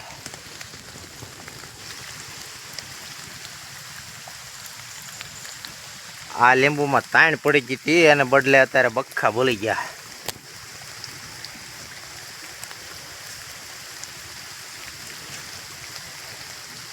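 Flood water rushes steadily past a farm plot in a village after the first monsoon rain, a continuous broadband flow heard throughout while someone talks nearby for a few seconds in the middle.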